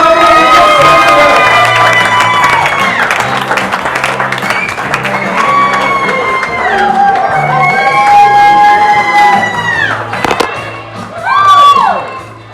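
Comedy club audience at a stand-up show clapping and cheering as a comedian takes the stage, steady loud applause with whoops and whistles riding on top, swelling again near the end.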